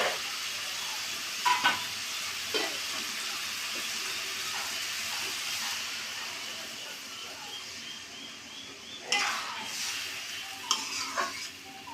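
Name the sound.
water poured into pan of gourd and mung dal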